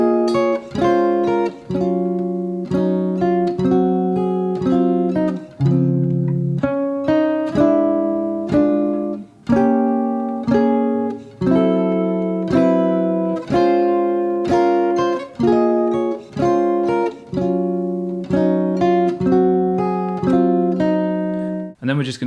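Jazz guitar playing chords from the B section of a ballad, a blues-infused progression of sustained, ringing chords struck one after another at a slow, even pace, clear and close with no voices.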